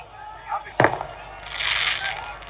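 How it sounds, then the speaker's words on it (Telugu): Firecrackers go off at an outdoor political election rally, one sharp close bang followed by a longer crackling burst of smaller pops, with crowd noise and speech around them. "దయచేసి పోలీసు మిత్రులు ఆ టపాకాయలు ఆపేయాలా?"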